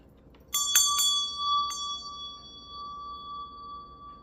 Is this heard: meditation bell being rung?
yes